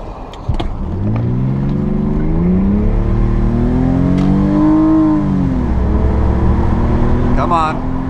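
A BMW 323i engine revs up and accelerates hard toward 60 in sport mode with traction control off, its pitch climbing steadily over several seconds, loud and close, with a brief voice near the end.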